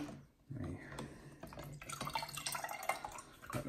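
Water drips and drains out of wet coffee grounds in an overfilled filter, a run of small splashy trickles and drops under occasional voices nearby.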